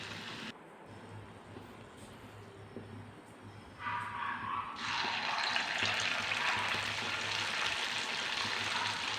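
Bonda batter spooned into hot oil, a steady close sizzle of frying that swells suddenly louder and brighter partway through as more batter drops in, with no talking.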